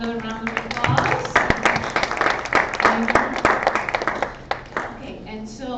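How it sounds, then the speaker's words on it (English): A round of applause for a presenter at a talk on cell phone innovations: dense crowd clapping, fairly loud and sustained for several seconds, with voices mixed in. "Let's give him another round of applause."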